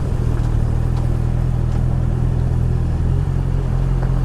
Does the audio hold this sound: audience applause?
no